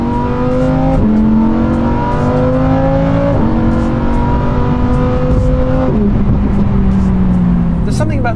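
A Lamborghini Aventador V10 revs hard and drops several gears, the loud, close engine note climbing in repeated sweeps with sharp breaks at each downshift, a driver's voice running underneath.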